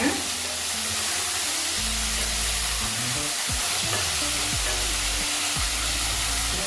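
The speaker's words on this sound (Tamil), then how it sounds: "பூண்டு ஒரு பல், கருவேப்பிலை சிறிது. நல்லா வதக்கலாங்க." A garlic clove and curry leaves sauté in a hot pan for sambar rice, giving a steady close sizzle with occasional stirring scrapes. The frying keeps a constant hiss from start to finish.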